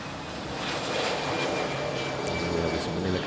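A United Boeing 777-300 jet taxis toward the runway at a wet, rainy Manila International Airport, its engines producing a steady, fairly close broadband roar with a thin whine on top.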